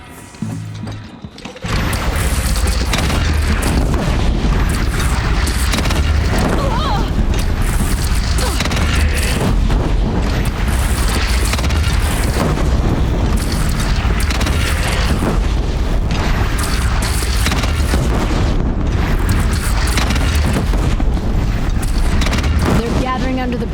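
Cannon fire and explosions in the video game Horizon Zero Dawn. Loud, dense booms and blasts go on almost without pause, with raised battle voices over them.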